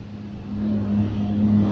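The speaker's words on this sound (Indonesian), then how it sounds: "ini suaranya itu banyak motor, soalnya kan ini di deket jalan raya" A low engine rumble from many motorbikes passing on a nearby main road, fairly faint and swelling slightly, with no talking.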